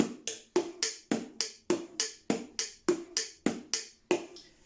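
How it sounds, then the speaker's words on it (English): Sped-up disco beat on a drum kit cycling bass drum, hi-hat, snare and hi-hat, heard as an even run of about fifteen crisp, close, loud hits that each decay quickly, with no voices. "We're going to go bass drum, hi-hat, snare drum, hi-hat."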